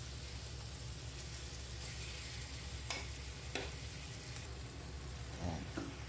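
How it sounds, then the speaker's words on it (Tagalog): Marinated chicken sizzling in a pan with garlic and onion, a steady close frying hiss with a few scraping stirs of a utensil against the pan and no talk. "At pwede na po natin ilagay ang marinated chicken."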